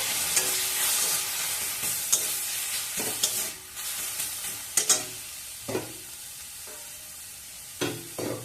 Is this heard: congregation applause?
no